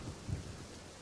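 Rain and thunderstorm effect from an audio drama: a steady, dense wash of falling rain with a low rumble of thunder swelling briefly underneath, heard alone without any voice.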